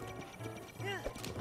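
A horse gallops in Zelda Breath of the Wild, its hoofbeats thudding close in quick rhythm, with a brief whinny-like call in the middle and a voice talking over part of it.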